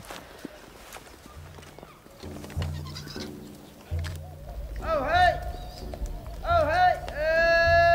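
Around 200 goats bleat repeatedly with wavering, nasal cries over a busy background, including other voices, rising louder toward the end, in Saudi Arabia.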